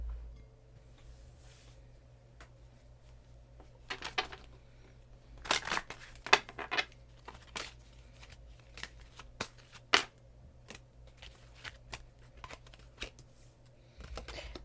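Tarot cards are shuffled by hand, close and quiet, in irregular riffling flurries and soft slaps over a low steady background hum.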